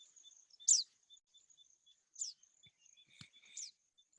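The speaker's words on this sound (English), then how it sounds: "the call of a Blythe's pipit" Blyth's pipit call, a sharp explosive chirp repeated three times at spaced intervals, clear against silence with faint high twittering in between.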